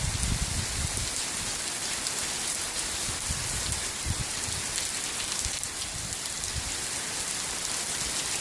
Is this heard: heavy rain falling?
yes